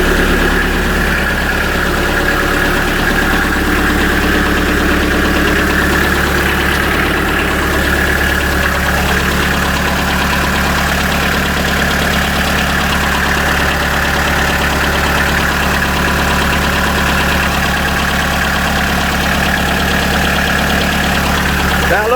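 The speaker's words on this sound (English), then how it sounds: "I have to have the engine running" A Kubota B3150 compact diesel tractor engine idles steadily and loudly throughout, a constant low rumble with a slight knocking rhythm and no pauses.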